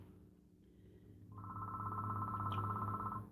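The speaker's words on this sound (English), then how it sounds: "Oh, there goes that phone." A telephone rings indoors in a home, a steady electronic warble starting about midway and continuing to the end, fairly loud over a low background hum.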